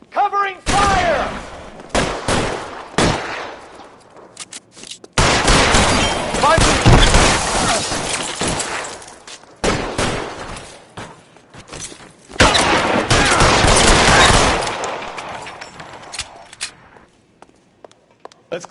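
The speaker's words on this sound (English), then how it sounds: "Covering fire!" Gunfire crackles in the LA Noire video game, with bursts of rapid shots and heavy volleys alternating with brief pauses, loud and close, mixed with footsteps and shattering debris.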